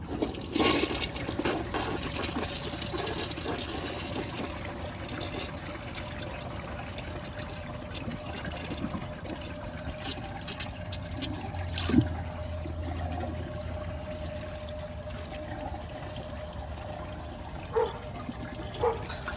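A Briggs Beautyware toilet of unknown date flushes with a rushing gush of water, then a long steady refill trickle and hiss, heard close up with no talking.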